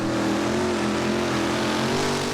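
Pulling tractor powered by a 1500-horsepower Chevy 572 engine roars steadily at a Danish championship tractor pulling event, a loud continuous engine drone with a strong sustained pitch, heard alone without speech.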